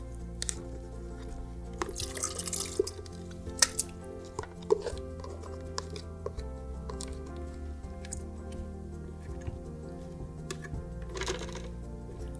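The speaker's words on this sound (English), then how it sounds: "Once it has sat for long enough, you'll go ahead and pour it into your blender." Soaked paper and water for plantable paper are poured into a blender, giving quiet wet drips, splats and squishy sloshes in irregular bursts against a low background hum.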